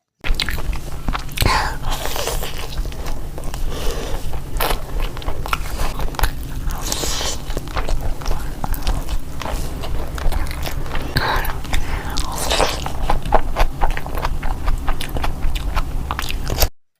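Loud, close eating with steady crunching bites and wet chewing, alongside a Bengali home meal of button pulao, green coconut prawns, spicy kala bhuna and chicken curry, continuing densely throughout with no gaps.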